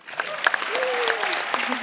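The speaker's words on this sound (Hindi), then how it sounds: "उसके लिए तालियां" Steady applause from a TV comedy show studio audience, clapping continuously while a voice carries on over it.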